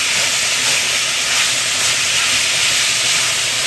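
Pepper steak sizzling in a black cast iron skillet, a loud, dense, unbroken hiss held close for the whole stretch, with no voices.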